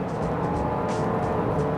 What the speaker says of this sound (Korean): 최고의 가속을 할 때도 부드러운 엔진음을 보여줍니다.